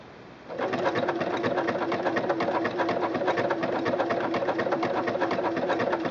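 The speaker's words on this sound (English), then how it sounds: "show you what it looks like to stitch with a wing needle" A Singer Quantum Stylist 9960 sewing machine stitches with a wing needle. After a brief quiet start it runs in a fast, even, rattling stitch that stays loud and close until the end.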